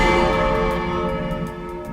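A bell rings in the Pilgrammed video game, its long sustained tone with layered overtones decaying slowly over a couple of seconds, loud and alone with no talk.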